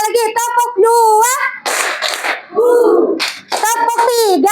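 A class of primary schoolchildren claps together in short, noisy bursts that break into a woman teacher's lively talk in a school classroom.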